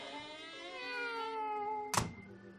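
A cat lets out a long, drawn-out meow, close and clear, followed by a single sharp thump as it pushes a door shut in a radio drama sound effect.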